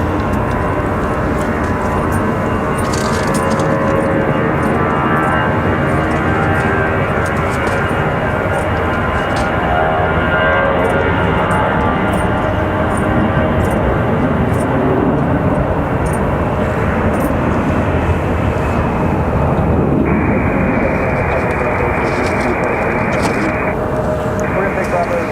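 A Boeing 757 airliner departs at Raleigh Durham airport, its engines making a loud, steady broadband roar that fills the whole stretch, with a person talking over it.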